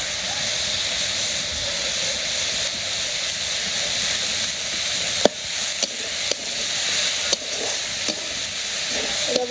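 Food sizzles steadily in a pan in a village kitchen after a pinch of salt goes in, a continuous bright hiss broken by a few sharp crackles and stirring clicks, close and loud with no talking.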